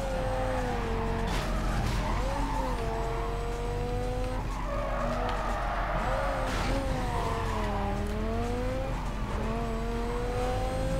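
A Dodge Viper skids through a race in the video game Need for Speed Carbon, with a sustained squealing, wavering tire screech over a steady engine roar lasting throughout, loud and continuous.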